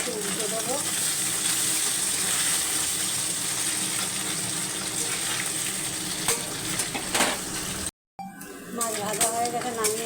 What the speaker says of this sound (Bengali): কড়াইতে তেল দিয়ে দিয়েছি, তেল গরম হয়ে গেছে। মাছটা একটু ভেজে নেবো।